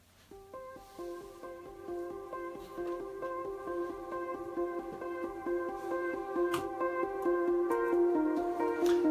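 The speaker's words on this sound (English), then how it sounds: "And then we have one more arpeggio" A Zebra synth pluck arpeggio ripples in rapid, evenly spaced notes that slowly build in volume and density, with no voices.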